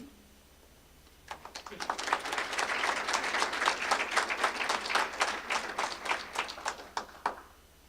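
An audience claps at a nursing pinning ceremony, starting abruptly and swelling into sustained applause with distinct individual claps, then tapering off near the end.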